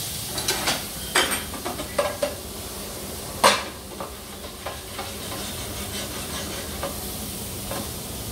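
Duck breast frying in a pan, cooked on both sides before a cherry beer is added; a steady soft sizzle runs throughout, broken by a few sharper clatters and stirring knocks of utensils against the pan.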